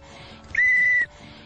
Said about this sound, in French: Pour rappeler Diva, j'utilise un sifflet.